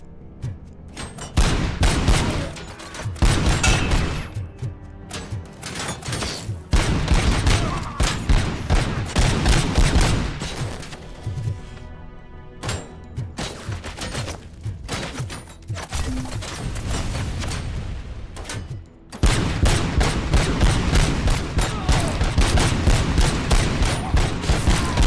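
Repeated loud bursts of rapid gunfire from explosive rounds in RoboCop: Rogue City, with volleys separated by short pauses and a dense, heavy final stretch.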